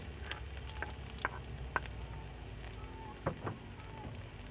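Onion and garlic sauté in a pan with a steady, soft frying sizzle, punctuated by a few light spoon taps and scrapes against the pan, close and fairly quiet.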